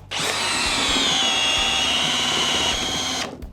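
Bosch GSB 18V cordless drill driving a 200 mm screw on second speed, a loud, steady whining motor run of about three seconds that starts abruptly and cuts off at the end.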